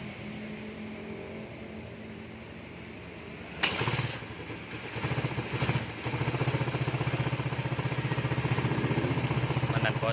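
A Suzuki Satria FU motorcycle engine with a leaking exhaust starts and idles nearby, a steady rumble rising to a louder continuous run after a few seconds.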